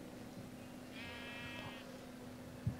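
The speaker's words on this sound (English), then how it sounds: "No, he's a fucking blue sheep." A single bleat from a blue sheep in the Minecraft video game, moderately faint over a steady electronic hum, with a soft thump just after.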